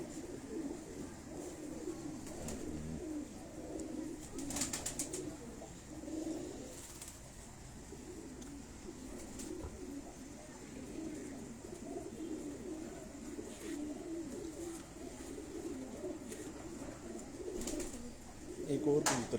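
Pigeons coo in a soft, continuous low murmur with a few wing flaps, fairly faint, while someone talks over them at intervals.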